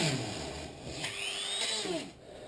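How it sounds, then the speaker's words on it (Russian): An electric drill whines as it drives screws into a bed frame, a continuous rising motor tone close by that winds down near the end. "Ну и для удобства мы будем использовать дрель."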